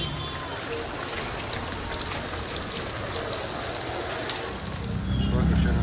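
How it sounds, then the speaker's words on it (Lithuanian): Heavy rain falls on a street in Nepal, a steady close patter of drops on hard surfaces with a person speaking over it, growing louder near the end. "Išvykimo diena pasitiko ganėtinai stipriu lietumi."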